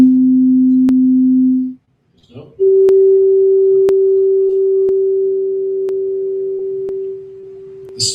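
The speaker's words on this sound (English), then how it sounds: "if I play just a basic sine wave" A basic sine wave tone played on the shimmer, a steady pure hum that cuts out briefly, then returns at a higher pitch and holds, slowly fading toward the end, with faint clicks throughout.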